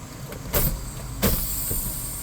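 Two sharp bursts of air hissing, one around the half-second mark and another about a second later, over a low steady idling rumble.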